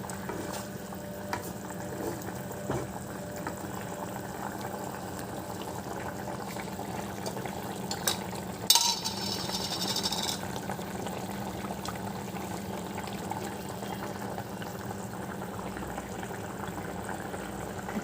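Potatoes boiling in a pot of water on a kitchen stove, a steady, moderate bubbling hiss that runs throughout with faint stirring clinks and one brief louder rustle midway, and no voices.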